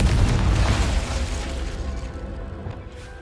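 A spell explosion in the video game Hogwarts Legacy, a loud booming burst with rumble that fades out over a few seconds.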